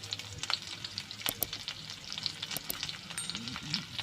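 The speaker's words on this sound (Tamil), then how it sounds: "இப்போது கடுகு பொரிஞ்சதும் வெங்காயம் ஆட் பண்ணிக்கலாம்." Onion frying in oil with spluttered mustard seeds and urad dal makes a close, steady sizzle with scattered crackles and the occasional scrape of stirring, at a soft level with no voices.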